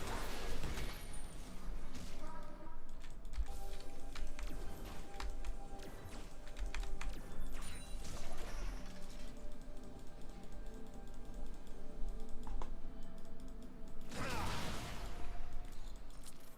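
Rapid clicking of computer keyboard keys during a League of Legends gaming session, a steady patter of taps at moderate distance throughout, with a louder burst near the end.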